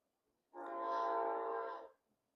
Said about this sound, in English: If you can hear the train, I'm so sorry. It is so close to our apartment.